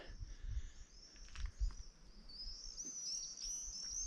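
Birds in the Chernobyl exclusion zone at sunset: faint high chirps and twittering calls sound repeatedly over a low rumble and soft handling noise, mostly distant.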